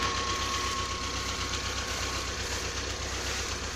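A tractor's diesel engine idles steadily with a low, rhythmic knocking throb, close and constant throughout.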